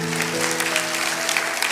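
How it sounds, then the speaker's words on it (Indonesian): A church congregation applauds for God during a sermon, with dense, steady clapping filling the whole moment while sustained organ or keyboard chords ring underneath. "kasih tepuk tangan untuk Tuhan"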